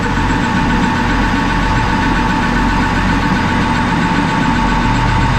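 Craftsman metal lathe switched on and running, a loud steady mechanical drone with low rumble and vibration, continuous and close for the whole stretch with no talking.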